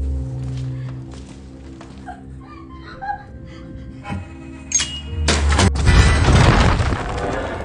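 An explosion erupts in a dramatic film scene, a sudden loud broadband blast with crashing debris rolling on for a couple of seconds after quieter stretches of music and low rumble.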